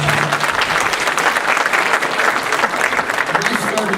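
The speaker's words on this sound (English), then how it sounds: "Ladies and gentlemen, give him a round of applause." A church audience claps hard for a guest pastor, giving a loud, close, continuous burst of dense applause with a few cheers mixed in.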